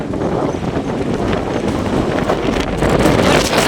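Strong wind buffets the microphone with a continuous loud roar and rumble throughout, with no clear voices.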